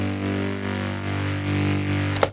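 Sustained mid bass synth layer from a future bass track, a steady harmonic tone holding alone for about two seconds before a brief bright transient at the end.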